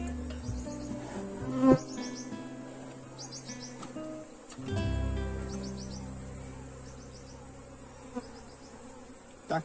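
Honey bees buzzing around an open hive during a colony split, a steady insect drone close by with scattered knocks and handling noises, and a thud around the middle.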